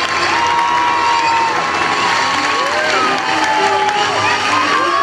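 A large outdoor crowd applauds and cheers the white knight at a historical joust reenactment in Salon-de-Provence, a loud continuous wash of clapping with whoops and shouting voices mixed in.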